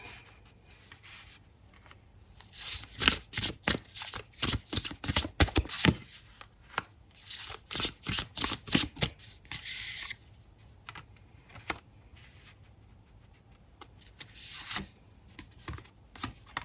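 A deck of tarot cards is shuffled by hand in a series of quick, papery riffling and tapping bursts, close and fairly quiet, with short pauses between handfuls.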